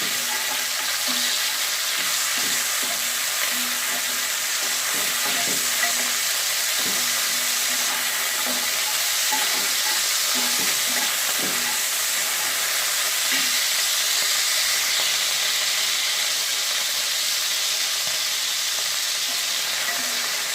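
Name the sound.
chicken frying in a pan for chowmein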